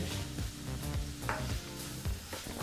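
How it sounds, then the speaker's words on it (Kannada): Tomatoes fry in a pan, giving a soft sizzle broken by a few low thumping stirs and scrapes, close by with no voices. "ಟೊಮೊಟೊ ಹಣ್ಣನ್ನು ಫ್ರೈ ಮಾಡ್ಕೋಬೇಕಾಗತ್ತೆ"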